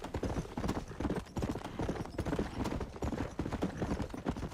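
Horse hooves beating steadily in Red Dead Redemption, a close, rhythmic run of thuds repeating quickly and evenly without a break, with no talk over it.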